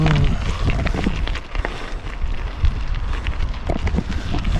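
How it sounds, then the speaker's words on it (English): Strong wind blowing on a high mountain road during a bicycle ride, a loud continuous roar buffeting the microphone with gusts and bits of gravel clatter, no voices. "You hear the wind?"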